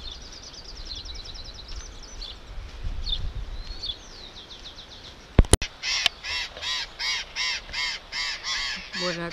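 Parrots call near their nest burrows in a cliffside ravine near a rural Argentine town: harsh, raspy squawks repeat in a steady series of loud, close calls after a quieter stretch of faint outdoor chirping.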